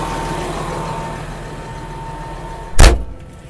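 A Caterpillar D6R XL bulldozer engine idles steadily as it warms up on a hot day, a low continuous rumble, with a sudden loud thump or clunk near the end.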